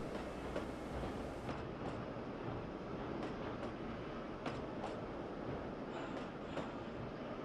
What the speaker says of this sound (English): Here we find an eastbound train from Chama, New Mexico, arriving at Osier.